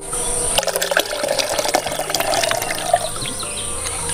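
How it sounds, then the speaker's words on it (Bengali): Boiled and cooled milk is poured from bowls into a mixer-grinder jar, a steady, close liquid splash and gurgle with a few clinks throughout. "আমি এখন দু বাটি দুধ জারের মধ্যে ঢেলে দিচ্ছি"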